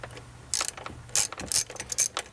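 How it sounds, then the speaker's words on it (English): A ratchet loosens 8mm bolts on a throttle body intake tube, giving several short bursts of quick metallic clicking close by in a quiet room. "we're going to go ahead and remove the intake tube by loosening these two 8mm bolts"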